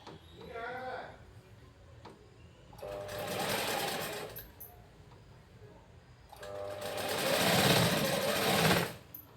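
A sewing machine stitches a folded hem on a 36-inch blouse in two loud, steady bursts of rapid whirring, separated by a quiet pause. A voice speaks briefly at the start.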